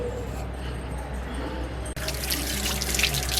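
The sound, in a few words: washing aloe vera under running tap water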